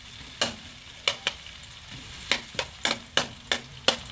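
Sliced onions going into a hot pan for a chicken and shiitake mushroom dish, giving a steady sizzling fry with a series of sharp clatters and stirring knocks spaced through the clip.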